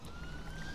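An ambulance siren wails as one steady tone that creeps slightly upward, held continuously over a low rumbling background with no talking.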